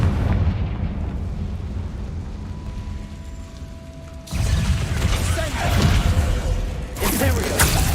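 Confringo blasting spell cast in Hogwarts Legacy on PS5: a deep rumbling game blast swells, then bursts into a loud crashing roar around the midpoint and again near the end, over a constant low background.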